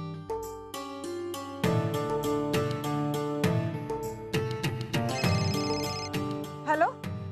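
A melodic phone ringtone plays in clear, repeating tonal phrases, fairly loud and close, before a call in a Marathi TV serial scene, with a short rising chirp near the end.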